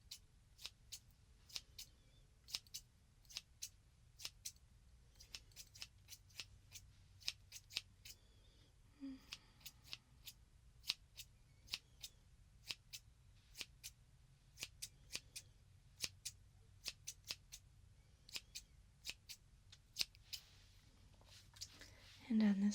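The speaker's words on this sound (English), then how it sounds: "I'm just going to give you a little trim." Scissors trimming hair in a close-up ASMR haircut roleplay: quiet, crisp snips come in irregular clusters over a soft low hum, with faint whispering between them.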